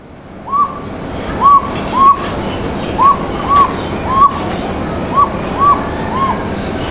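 A Koka pigeon gives a series of high, thin whistle-like calls, about nine short notes at an uneven pace over a faint background hum.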